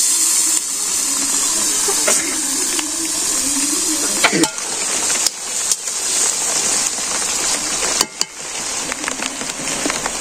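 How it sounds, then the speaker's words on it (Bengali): A little water is poured into a hot cooking pot for meat, producing a loud, steady rushing splash and hiss, with a few short breaks and knocks along the way. "একটু জল দিতেছি"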